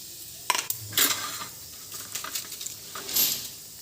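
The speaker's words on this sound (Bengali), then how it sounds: "দারচিনি লবঙ্গ এলাচ শুকনো লঙ্কা আর জিরে একসঙ্গে এখানে তেলের উপরে ফোড়ন দিয়ে দেব" Whole spices (cinnamon, clove, cardamom, dry chilli and cumin) dropped into hot oil for tempering, giving a few clinking drops and short crackling sizzles, soft and close, with no voices.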